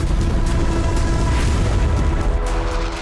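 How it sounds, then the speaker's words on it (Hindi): Hezbollah rocket fire striking an Israeli airbase in northern Israel: a dense, continuous low boom and rumble that stays loud and roaring through the whole stretch with no pause. "हिजबुल्लाह ने कई रॉकेट फायर किए।"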